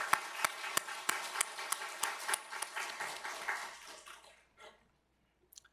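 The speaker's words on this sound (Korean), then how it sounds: "격려의 박수 부탁드립니다" A church congregation at a Friday prayer meeting breaks into encouraging applause, a dense wash of many hands with a few sharp louder claps, fading out after about four seconds into near silence.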